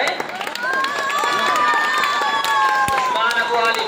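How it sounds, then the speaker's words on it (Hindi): At a results and prize distribution ceremony, an audience claps steadily and continuously nearby while children's voices and crowd chatter mingle through the applause. "ताली बजा भाई।"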